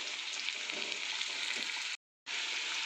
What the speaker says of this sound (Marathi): छान व्यवस्थित आपल्याला भाजी परतून घ्यायची आहे